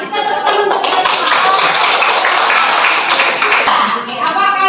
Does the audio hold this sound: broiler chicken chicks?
no